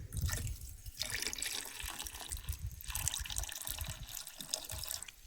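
Water pours steadily into a tractor radiator during farm work, a continuous splashing, gurgling flow heard up close and fairly quiet, with no talking.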